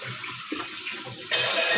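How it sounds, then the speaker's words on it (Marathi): Water is poured into a pot of fried curry masala, a rushing splash that swells loudly toward the end and stands alone without speech. "त्याच्यात आपण पाणी टाकलं."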